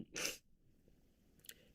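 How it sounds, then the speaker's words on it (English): A single sharp sneeze bursts out at the start, fairly close, then fades into near silence with a faint short rustle afterward. "that sneeze does not take away this serious moment"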